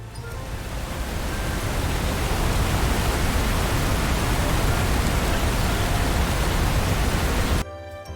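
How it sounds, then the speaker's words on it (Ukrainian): Steady, heavy autumn rain falling as a dense continuous hiss, constant throughout and cutting off abruptly at the end. "Дітки, послухайте, яку затяжну пісню співає дощик."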